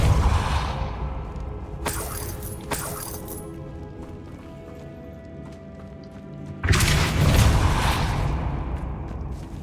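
A Depulso spell cast in Hogwarts Legacy gives a sudden loud whooshing burst with a thud, rising out of quieter game ambience with a few earlier cracks.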